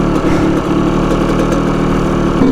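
A Yamaha YZ125 two-stroke dirt bike engine runs steadily and loud up close on a sandy beach, a continuous buzzing idle with slight fluctuations and no talking.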